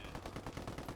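Rapid automatic gunfire in a video game, a quick burst of sharp repeated shots packed into about a second, close and fairly loud with no talking.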